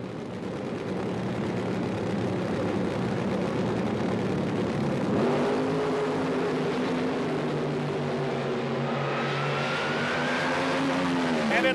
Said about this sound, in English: Denny Savage at the wheel of the Power Steel, John Powers car, the Camaro-bodied funny car on the tower side